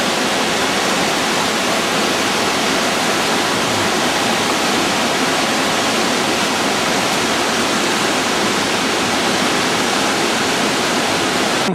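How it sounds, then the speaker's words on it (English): The Ollantaytambo River rushes in a steady, loud, unbroken roar of turbulent water heard from close by along a trail in the Peruvian Andes. "This is the Ollantaytambo River."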